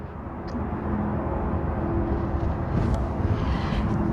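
An emergency tire inflator screwed onto a car's valve stem runs as a loud, steady mechanical drone that holds constant from start to finish.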